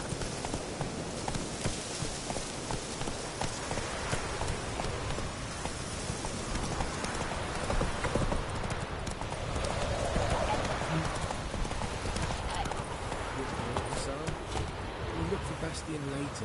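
A horse gallops in a PS4 video game, its rapid clip-clopping hoofbeats running steadily alongside rain-like ambience while a voice speaks intermittently over the action.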